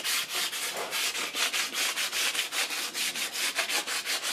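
Close, steady rubbing strokes from sanding a Rubelles faience pottery piece to smooth away burrs, a continuous rhythmic scratchy rasp with no voices.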